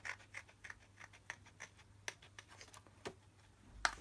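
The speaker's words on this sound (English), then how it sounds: "Which is really interesting watching me cut out, but we'll cut that out." Paper number being cut out with scissors, a series of faint, quiet snips and rustles spaced through the stretch with one sharper crisp cut near the end.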